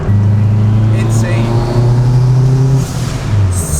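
A 1992 Honda Civic SiR with a turbocharged K20/K24 swap pulls hard in fourth gear, its engine droning steadily with a rising tone from inside the cabin, while people talk over it.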